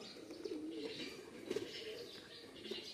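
Pigeons, Oman Teddy breed kept as pets in Khulna, give soft low coos in a few short bursts, faint and close, over a quiet background with no talk.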